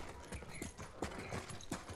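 Horse hooves clip-clopping in the Ghost of Tsushima video game, a quick irregular series of close thuds with faint ambient background and occasional soft voices.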